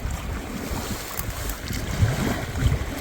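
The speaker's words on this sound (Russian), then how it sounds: "Очень сильный ветер. Со всех сторон вот так он идет." Strong, gusting wind blowing from all sides at an outdoor campsite near Borovoe (Burabay), roaring and buffeting the microphone with low rumbling surges and swells that grow stronger toward the end.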